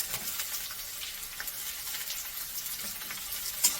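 Tomatoes sautéing in a pan while making upma give a steady, soft, low-level sizzle with faint stirring, continuous and close, with no talking.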